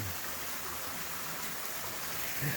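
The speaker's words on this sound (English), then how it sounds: "A little itty bitty waterfall." Small waterfall near a footbridge on a trail, a faint, steady splashing hiss of falling water that keeps going without breaks and no voices over it.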